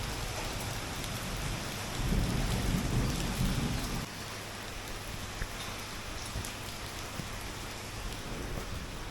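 Rain pours steadily during a thunderstorm, with a deep roll of thunder swelling and fading early on before the downpour carries on alone at a fairly quiet, even level.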